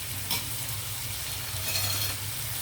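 Prawns fry in a pan for a spicy prawn and ladyfinger curry, giving a steady, close sizzle with light stirring scrapes throughout.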